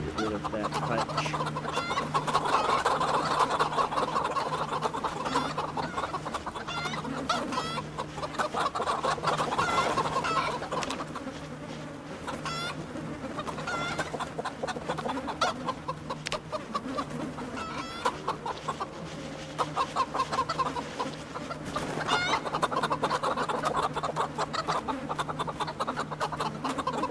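Chickens in a coop in Project Zomboid cluck and chatter continuously over a low steady hum, with several birds overlapping in irregular bursts that rise and fall across the whole stretch.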